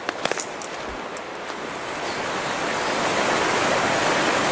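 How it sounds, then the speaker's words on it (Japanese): A mountain stream in a Fukushima gorge on the way to a waterfall, rushing with a loud, steady broadband roar that swells slightly and fills the whole stretch, a few faint knocks at the start. "はい、川に着きました。"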